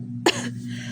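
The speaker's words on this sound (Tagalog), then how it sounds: "Sorry, inuubo ko. Sinisipon." A single short, sharp cough from a woman with a cold, close and fairly loud over a low steady hum.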